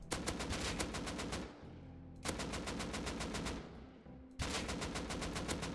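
An AK rifle in Rust fires three long automatic sprays with rapid, evenly spaced loud shots, each burst cut off by a short pause before the next, with no voices heard.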